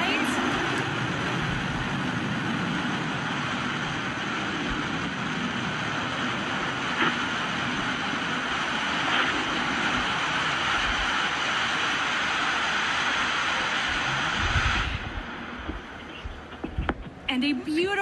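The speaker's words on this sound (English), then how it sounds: "And a beautiful landing for the New Shepard booster, kicking up some dust." Blue Origin New Shepard rocket booster landing, its engine a loud, continuous broadband roar throughout that cuts off abruptly near the end, leaving brief rumbling and clattering.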